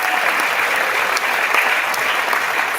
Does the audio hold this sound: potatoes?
no